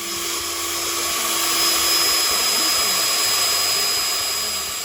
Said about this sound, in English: So now you just need to drill the holes by using a 5mm drill bit.